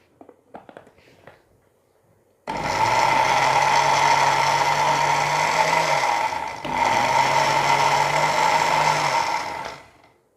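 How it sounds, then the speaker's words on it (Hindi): An electric blender whirs loudly and steadily while eggs are mixed into almond cake batter, running in two long bursts separated by a brief pause, after a few faint clatters at the start. "और साथ साथ इसको ब्लेंड करते जाएंगे"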